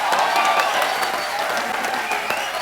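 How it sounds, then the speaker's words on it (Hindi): Loud, dense applause from a TV comedy show studio audience rolls on continuously and evenly throughout. "तो जोरदार तालियां।"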